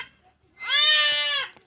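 A single Sirohi goat bleats on a goat farm near Ajmer, Rajasthan: one sustained, wavering bleat of about a second, loud and close, after a quiet start, with no one talking over it.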